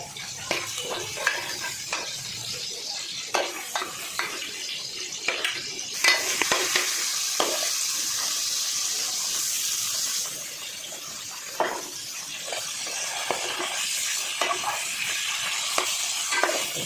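Fish pieces fry in a pan for a home-style fish curry, a steady broadband sizzle with frequent utensil scrapes and stirring clicks, growing louder partway through, with no voices over it.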